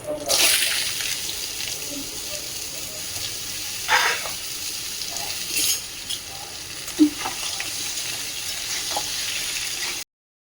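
Potato and bottle gourd sizzle in a hot pan while being stirred, a steady broadband hiss with a few brief scraping clatters from the spoon against the pan.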